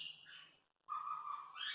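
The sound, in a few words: grey parrot imitating a koel call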